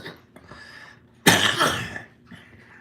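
A single harsh, close cough bursts out loudly and rasps for under a second over a quiet indoor background with faint murmuring.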